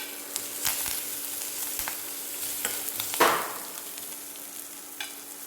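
Green and red chilies with curry leaves and garlic sauté in hot oil for coriander rasam, a steady sizzle broken by light stirring scrapes and one louder burst of spatter midway.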